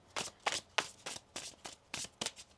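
Tarot cards are shuffled by hand in eight quick, crisp riffling bursts at a steady rhythm, close and clear with no talking.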